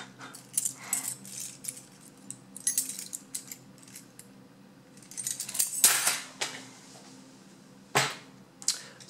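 A bunch of keys jangling and clinking in short irregular bursts, metallic rattles rising and falling close to the mic against a quiet room.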